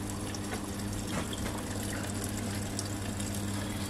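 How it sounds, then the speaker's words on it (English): Water pouring steadily into a Von automatic washing machine as it begins filling after start is pressed, a continuous trickling rush over a low motor hum, close by with no talking. "So when you press start, the water will automatically come in,"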